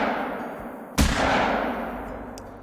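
A single loud shotgun blast in the Call of the Wild hunting game, fired at a mule deer, with a sharp crack followed by a long rolling echo that fades over about a second and a half.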